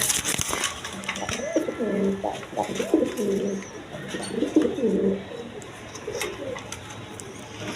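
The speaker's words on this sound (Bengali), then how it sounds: "একদম বিগ সাইজের কবুতর" Big-sized pigeons cooing in repeated low, throaty rolling calls at close range, several overlapping phrases over a soft background hiss.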